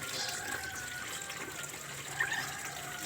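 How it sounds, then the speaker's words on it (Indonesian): Water pouring and flowing into the radiator of a Toyota Kijang Grand Extra, a steady soft trickling stream with a brief louder splash near the end, no talking. "kita lakukan pengecoran air ini dengan secara mengalir ya."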